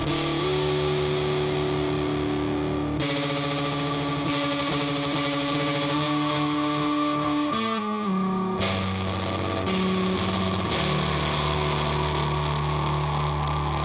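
Dense, heavily processed music with distorted, washed-out tones and swelling reverb that builds and shifts, loud and continuous throughout.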